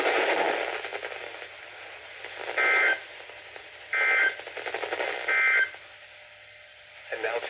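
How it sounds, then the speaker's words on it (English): NOAA Weather Radio public warning alarm test: three short, loud steady tone bursts at regular intervals, with a radio announcer's voice and crackly static between them. "This has been a test of the NOAA Weather Radio Public Warning Alarm System."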